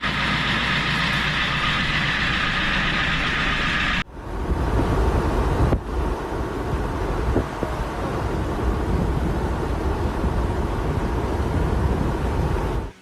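A converted ambulance's engine roars loudly from inside the cab while driving, a dense, constant rumble with wind buffeting that shifts abruptly partway through, and no talk.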